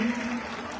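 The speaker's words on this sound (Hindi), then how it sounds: "एक बार तालियां बजाकर सम्मान करें" Crowd applause at an outdoor public rally in Bhudoli village, Rajasthan, welcoming General V K Singh: a short, steady wash of clapping under a low sustained voice-like tone.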